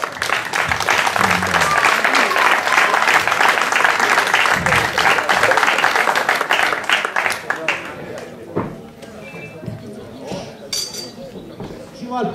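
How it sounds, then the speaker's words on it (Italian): An audience at an award ceremony for a chess competition claps in a dense burst that fades after several seconds into quieter clinks and scattered noise, with people talking over it. "applauso al nostro Gaetano."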